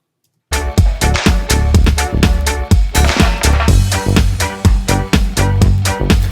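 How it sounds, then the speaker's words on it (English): Instrumental music with a steady beat and punchy bass hits begins after a brief silence, playing loud with no singing. "I want background music without vocals here"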